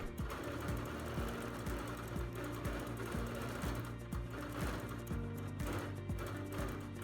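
A sewing machine runs a steady, rapid stitching rhythm as it free-motion quilts leaf shapes into fabric, a continuous close mechanical chatter with no talk.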